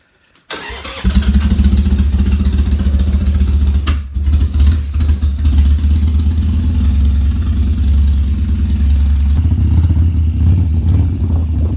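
A Harley 883 motorcycle engine cranks and fires after a brief silence, then settles into a loud, steady, rumbling idle while warming up, with a short dip and small blips in revs partway through.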